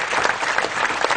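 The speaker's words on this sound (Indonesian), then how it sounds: "kita tepuk tangan semua untuk teman dari Tambang Wetan" A crowd at an evening Mocopat Syafaat gathering applauds, a continuous broad wash of many people clapping together, loud and steady through the brief stretch.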